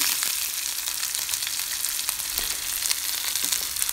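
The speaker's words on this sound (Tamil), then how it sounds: "ஆனியன் நல்லா டிரான்ஸ்பரண்ட் கலர் வர வரைக்கும் நல்லா ஃப்ரை பண்ணிக்கோங்க" Chopped onions with a pinch of salt sizzle steadily in a hot pan with oil, a continuous crackling fry with small pops, close and alone, while cooking for rava upma.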